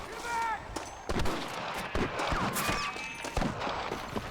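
Gunshots in Red Dead Redemption on Nintendo Switch, several sharp reports and scattered shots amid a shootout with rustlers, mixed with game sounds and voices talking.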